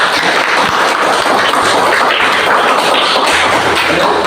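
Children in a classroom clapping together after a group presentation, a dense, loud, close patter of hands that continues evenly without pause.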